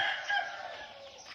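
Chicks and chickens at a small farm chicken-rearing setup give a steady, dense chorus of peeping and clucking, fairly close and unbroken, with no talk.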